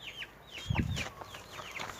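Several chickens cluck and make short rising calls nearby, with a low rustling thump partway through; no voices.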